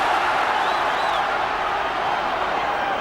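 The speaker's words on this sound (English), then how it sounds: "they really cheer when Greaves bangs one in" Big-match football crowd at a 1970s English top-flight game roaring for a Jimmy Greaves goal, a broad steady wall of cheering and shouting at constant loudness, heard at a distance with faint whistles rising within it.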